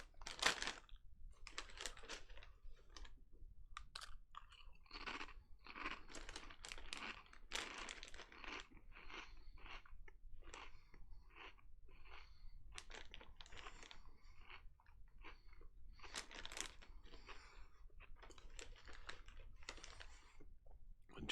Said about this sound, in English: We are chewing pop chips.